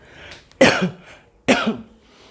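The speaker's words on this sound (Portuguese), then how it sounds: "E essa tossinha, isso é alergia." Two sharp coughs a second apart, close and fairly loud, each a harsh burst trailing into a short rasp, from an allergy cough.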